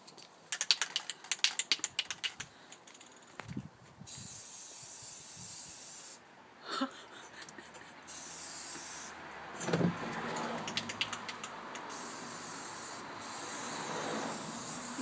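Aerosol spray paint hisses in long bursts as a postbox is coated gold for the London Olympics, the steady spraying broken by short pauses, clicks and rustling handling sounds, close and fairly loud outdoors.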